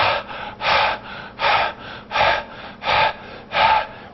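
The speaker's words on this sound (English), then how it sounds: "Rapid deep breathing" A person demonstrates rapid deep Kussmaul breathing, six or seven loud, regular breaths close to the microphone, evenly spaced and rhythmic, with no talk.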